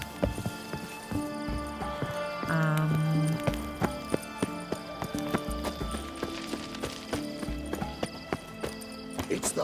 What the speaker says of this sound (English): It's the horse.